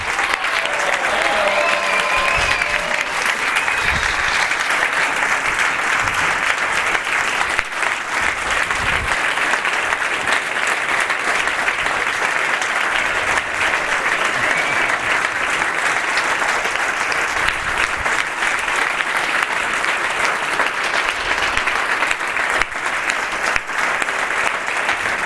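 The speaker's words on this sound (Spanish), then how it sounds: "creo que se merece también un aplauso" An audience at a political party gathering applauds in a sustained, even burst of clapping that carries on for a long stretch indoors.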